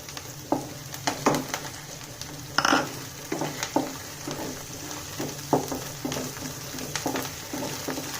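Curry leaves sizzle in hot oil in a pan for sabudana khichdi, a steady close frying hiss broken by sharp pops and crackles, with occasional light scraping of a spoon.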